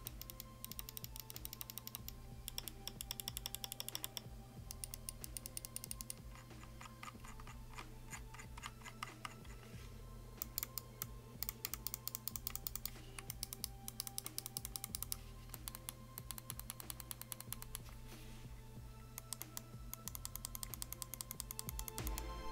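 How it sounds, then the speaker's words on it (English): A SteelSeries Rival 700 gaming mouse, with light SteelSeries switches under its left and right buttons, gives sharp, close, dry clicks in quick irregular bursts and short pauses, with no voice over them. "Moving on to the buttons, here is a listen to the clicks."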